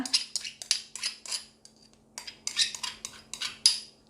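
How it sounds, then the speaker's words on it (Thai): A spoon clinks and scrapes rhythmically against a bowl while seasonings are stirred together for lemongrass grilled chicken wings, a dozen quick close taps in bursts with brief pauses. "เราก็จะนำเครื่องปรุงต่างๆนะคะ มาผสมรวมกันเลย"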